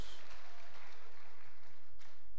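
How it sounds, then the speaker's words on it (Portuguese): A church congregation claps together during a celebration worship service, a dense, even patter of hands filling the room with no voices on top. "as palmas louvam o Senhor"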